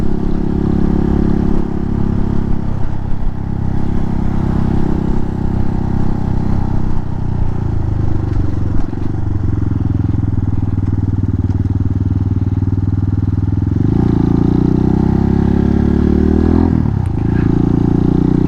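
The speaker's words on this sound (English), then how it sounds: "every time I let go of the throttle, on this thing, it engine brakes like crazy" An Aprilia RS660 sport motorcycle engine-braking off the throttle, a loud sustained engine drone that shifts pitch as revs fall, with wind and road noise throughout.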